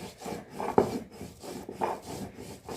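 Spices including black cumin being ground on a washed, dried stone grinding slab (shil), rasping rubbing strokes in a steady back-and-forth rhythm, close and moderately loud.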